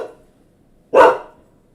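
A single loud dog bark, close by, after a faint trailing sound at the start, then quiet.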